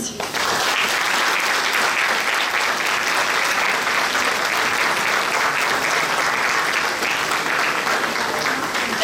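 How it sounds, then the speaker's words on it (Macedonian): A crowd at an award ceremony for the best masks at the 2026 Strumica carnival claps loudly and steadily, the dense applause holding without a break for about nine seconds. "Ќе ве замолам за уште еден аплауз."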